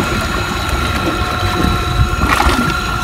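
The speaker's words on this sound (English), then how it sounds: "I can now turn up the motor a bit and we'll go a little bit faster." A solar-powered electric motor drives a boat at a raised setting, giving a steady, faint mechanical whine with soft gurgling water underneath. It continues evenly throughout, with no speech.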